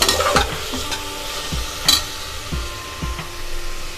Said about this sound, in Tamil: இந்த ஸ்டேஜில் இஞ்சி பூண்டு சேர்த்துக்கிறேன். எல்லாம் சேர்ந்து நல்லா அப்படியே வதங்கட்டும்.